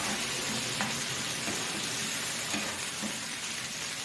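Ginger and green chilies fry in a pan of oil as the base for saag, giving a steady, close, loud sizzle that holds evenly throughout with faint stirring clicks and no talk.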